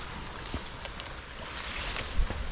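Choppy water slaps and sloshes around an island shoreline, with a steady rushing wash and occasional louder splashes, mixed with wind.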